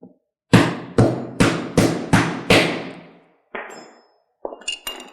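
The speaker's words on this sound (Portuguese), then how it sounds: "A parte de cima eu vou utilizar um cutelo e um martelo para fazer o corte." A cleaver struck with a hammer to chop through fish bone, six sharp, loud, evenly spaced blows with ringing decays, then a few lighter knocks and clinks.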